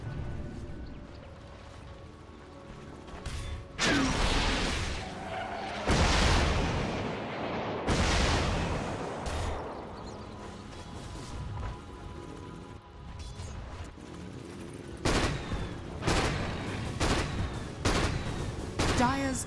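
A Dota 2 tower takes fire during a DreamLeague Season 8 match between EG and Na'Vi: repeated loud bursts of impacts and explosions in clusters, with quieter gaps between them and background game sounds.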